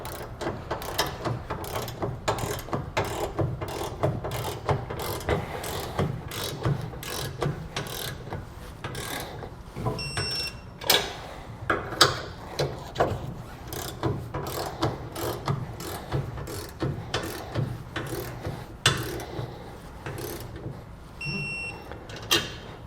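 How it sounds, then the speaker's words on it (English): Ratchet clicking rapidly while trailer hitch hardware is tightened on a 2021 Ram 1500 Classic, with dense repeated mechanical ticks throughout, close and steady with occasional louder knocks. "And now we can finish tightening our hardware."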